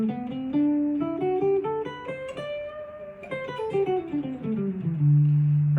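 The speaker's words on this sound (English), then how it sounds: "It's the Mixolydian scale." A D Mixolydian scale played note by note over a D dominant chord, stepping up and then back down in an even melodic line that ends on a held low chord, with no voices.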